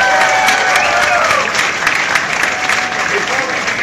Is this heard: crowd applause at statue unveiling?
yes